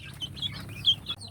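A sick free-range village chicken clucks softly nearby, a few short throaty notes with faint background noise.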